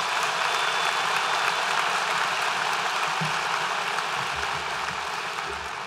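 A crowd in a school athletics awards gathering applauds honored students, producing a broad, constant wash of distant clapping that holds steady and fades slightly toward the end, with no speech on top.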